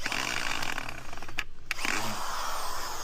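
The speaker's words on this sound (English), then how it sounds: "I'm just screwing these few screws into vinyl just in case." A power drill drives screws into a vinyl privacy screen outdoors, whirring loud and close with a short pause between two bursts of driving.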